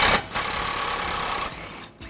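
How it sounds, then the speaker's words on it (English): An impact wrench fitted with an 18mm socket tightens front-mount trailer hitch bolts on a 2009 Dodge Ram 1500, giving a steady close mechanical whirring for about two seconds. "We are using a impact with the 18mm wrench socket to tighten it back down."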